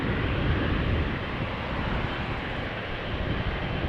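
A KLM Boeing 777-300 jet departing Schiphol thunders loudly and close, a dense, even engine roar filling the short span with no voices.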